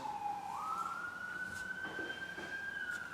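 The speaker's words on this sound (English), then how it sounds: "Okay, sirens again." A siren wails steadily in the distance near a hospital, its tone sliding upward and then holding, with low traffic rumble underneath and no talking.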